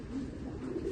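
A fancy pigeon coos in a low, steady, murmuring run, close by and fairly soft, with no talk over it.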